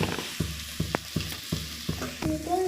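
Ivy gourd pieces fry in a pan with chilli powder being added, a steady sizzle broken by regular scraping stirs of a spatula, close and fairly loud with no talk.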